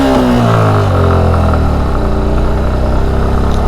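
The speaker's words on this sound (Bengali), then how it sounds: "এখন আপনার এই যে বাইকের সাউন্ড শুনে আশা করি বুঝতে পারেন" Motorbike engine labouring up a steep, rough mountain road to Sajek Valley, a loud, close, continuous drone that shifts pitch as it strains, with no voices.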